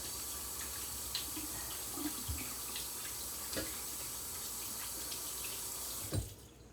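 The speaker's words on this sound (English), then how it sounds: "Wash my hands." Tap water runs steadily from a faucet into a sink while hands are washed in a home kitchen, a continuous close splashing with a few soft knocks, ending in a sharp clunk.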